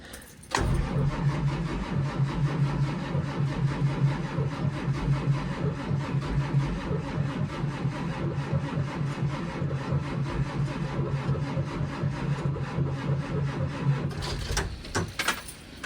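Two diesel buses, numbered 101 and 46, cold starting after the intake heater cycles: a starter grind, then a rough, clattering diesel idle running steadily and close for many seconds before cutting off.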